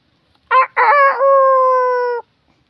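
A rooster crows nearby beside a papaya tree while a hammock is being made, a short broken start followed by a long, loud sustained harmonic cock-a-doodle-doo, then silence.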